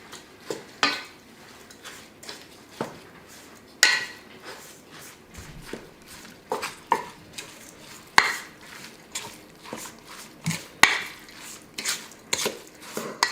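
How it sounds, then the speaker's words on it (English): A spoon stirs and scrapes stuffed bell pepper filling in a bowl, giving close, irregular clinks and knocks of utensil against dish over a long stretch, with no talking. "you're just going to mix this all together"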